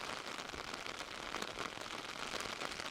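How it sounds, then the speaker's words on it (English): Wind and rain lashing across an open moor, a steady dense hiss of driving rain and gusts filling the whole clip at a moderate level, with no voices. "the wind and the rain were lashing into our faces"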